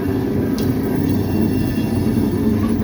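A coal train of hopper cars rolls past close by in winter, giving a loud, continuous low rumble of wheels and cars with a brief high screech, and no talking.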